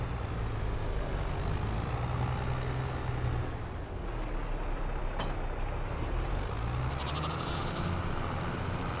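A tractor in Farm Sim 22 on the Hills of Tuscany farm reverses a trailer into a shed. A steady, close engine drone rises and falls in pitch, with a few light clanks and no talking.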